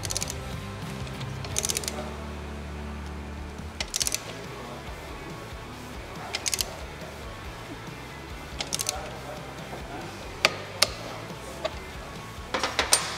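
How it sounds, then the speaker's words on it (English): Torque wrench tightening a motorcycle rear axle during chain adjustment, giving a handful of sharp, widely spaced mechanical clicks and ratchet snaps over a low steady background hum, fairly close. "I'm going to use a torque wrench at this point."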